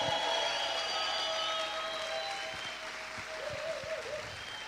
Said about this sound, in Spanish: ¿Cuántos pueden gritar y aplaudir fuerte al Rey?